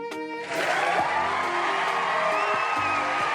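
A crowd whoops and cheers loudly in a continuous, dense burst that swells after a brief quieter opening and holds steady to the end.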